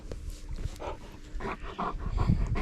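A puppy pants and whimpers up close, in quick breathy bursts with soft whining that rises and falls, some louder toward the end.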